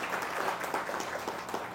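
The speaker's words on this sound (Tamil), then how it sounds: "கைத்தட்டுங்களேன்." Audience applause at a spoken religious discourse, a brief run of steady, soft clapping from many hands, somewhat distant and without voices.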